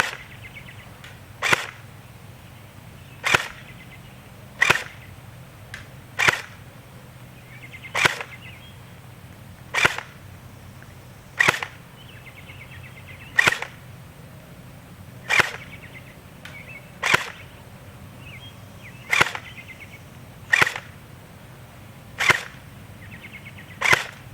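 A Crosman Pulse R76 airsoft gun fired in semi-auto, about fifteen sharp snapping shots at a fairly even pace of roughly one every one and a half seconds over quiet outdoor background.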